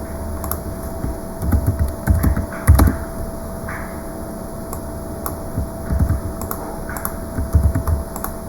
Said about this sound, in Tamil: ஸோ மசாலாஸ் நான் டைப் பண்ணியிருக்கேன்